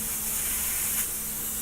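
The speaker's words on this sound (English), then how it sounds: "And now let's give this a spray of the copper." Copper paint sprays from a can or airbrush onto a plastic model kit, a steady close hiss that runs unbroken for under two seconds.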